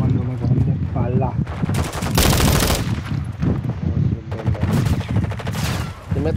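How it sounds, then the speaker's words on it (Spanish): Rapid automatic gunfire in Call of Duty: Modern Warfare II, loud close bursts of machine-gun fire in several long strings with short gaps, a player talking over the shooting. "¿Quién me está disparando, me cago en yo?"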